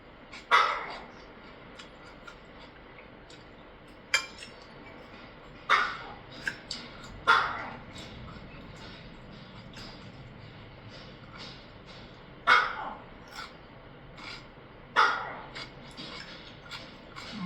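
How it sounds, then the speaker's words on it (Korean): A small dog barks in short, sharp bursts several times at a distance from the mic, spaced irregularly over a quiet room background. "그렇게 능금이가 더 짖냐?"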